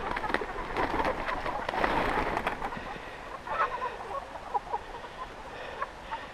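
Chickens in a shed-style coop cluck and murmur in soft, irregular bursts, moderately close and busiest early on before thinning to scattered calls.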